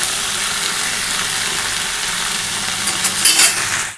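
Potatoes and pui (Malabar spinach) stems fry in a pan with oil, giving a continuous close sizzle and crackle, with a slight rise near the end as they are stirred.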